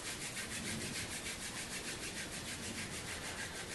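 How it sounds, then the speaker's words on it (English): Palms of the hands rubbed together briskly, a steady close dry swishing friction with no talk. "Let's take the palms and rub them together."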